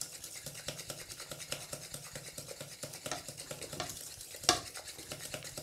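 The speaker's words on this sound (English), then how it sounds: "We add the egg yolk. Whisk, whisk, whisk." A whisk beats egg yolk into cookie dough in a bowl with a steady, fast rhythmic scraping and stirring, close and fairly quiet throughout, with no talking.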